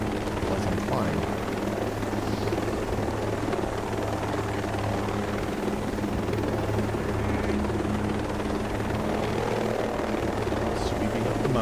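A helicopter in the video game Ghost Recon Breakpoint drones continuously with a steady rotor thrum, loud and close, as it sweeps up a mountainside, with a voice talking over it.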